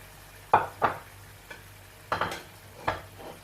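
Fried okra goes into a pan for bhindi gosht, and several short scraping stirs cut through a low sizzle. The stirs come in quick pairs and are fairly close.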